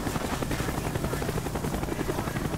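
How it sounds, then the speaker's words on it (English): A helicopter in the Call of Duty Black Ops campaign gives a steady, loud rotor thrum with rapid chopping pulses throughout, continuous and close, with no speech. "That's an ugly looking helicopter right there."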